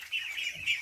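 Muscovy ducks in their duck house give a short burst of faint, breathy high-pitched calls, two quick peeps close together with light background noise.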